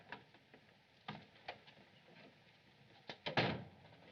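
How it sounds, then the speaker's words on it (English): A door is opened in an old black-and-white mystery film scene: scattered soft clicks and taps, then a louder clunk and rattle of the latch near the end, with no talking. "Open the door."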